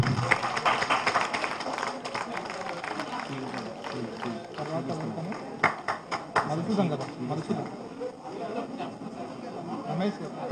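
Audience at a Z P H School, Guduru get-together party claps steadily and loudly throughout, a dense patter of hands under someone speaking in Telugu.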